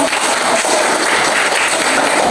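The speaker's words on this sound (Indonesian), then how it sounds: "beri tepuk tangan dulu" A classroom of students claps together after a group lesson, a loud, dense and continuous burst of applause that carries on without pause.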